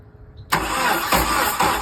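A 1994 Jeep YJ engine cranks and catches after a moment of near silence, then runs rough and loud up close with a couple of uneven surges.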